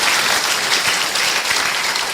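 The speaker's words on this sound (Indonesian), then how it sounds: "Kita kasih aplaus dulu." An audience claps steadily throughout a debate on Calvinism, a dense, even wash of applause with no voices standing out.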